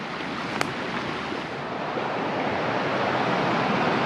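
Water rushes in a steady broadband wash, a brook flowing nearby, growing slightly louder toward the end, with a brief faint click early on.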